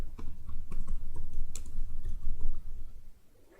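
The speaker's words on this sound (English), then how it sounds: "we type any line like say something like" Quick typing on a computer keyboard as a short line of text is entered, a run of close, soft clicks that trail off near the end, with a low background hum.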